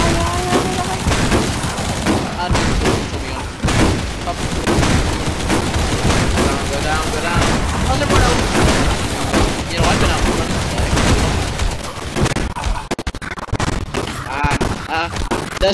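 Dense, loud gunfire against hordes of zombies in the video game Zombie Survivors, with rapid overlapping shots and booms forming a continuous barrage from start to finish.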